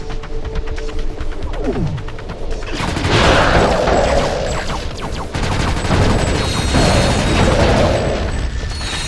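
Turret fire in Ratchet: Deadlocked, a dense run of rapid booming shots with heavy low rumble, continuing loud and steady through the whole stretch with brief swells of explosive bursts.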